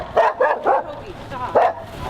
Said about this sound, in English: So I told you if he was in there, he'd bark.